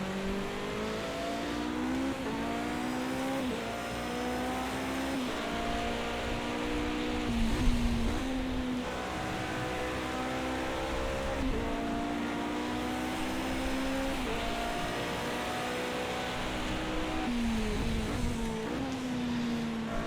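Toyota TS050 Hybrid LMP1 race car in Project CARS 2 at Spa-Francorchamps, its engine screaming through rising gear sweeps and sharp shifts, loud and continuous for the whole stretch with no talk.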